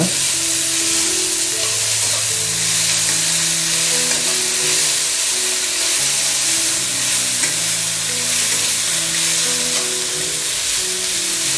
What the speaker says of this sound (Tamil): அதுக்கப்புறம் புதினாவையும் சேர்த்து போட்டுருங்க. லைட்டாக ஒரு ஃப்ரை பண்ணிடுங்க